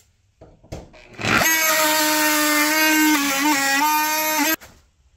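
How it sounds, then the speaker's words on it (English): A Bosch carbide multitool blade cuts into wood studded with nails, rising into a loud, steady high-pitched buzzing whine with a wavering tone as it bites, and stopping abruptly after about three seconds. "here's the Bosch carbide versus the wood with nails"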